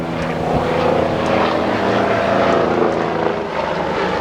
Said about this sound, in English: That's the medical chopper that flew over us already and now is going back.